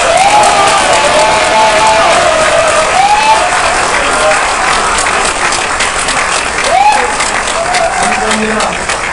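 Dense applause and cheering fill a Saenuri Party reform declaration ceremony, a steady roar of clapping with rising whistles and whoops over it, with a voice mixed in.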